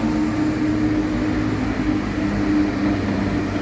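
A Paris commuter train rolls along with a loud, steady rumble and a sustained low tonal hum from the carriage, continuous from start to finish with no talking.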